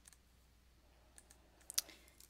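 A single soft mouse click on the send button in Google Forms, faint and close, with a few quieter ticks before it in a quiet room.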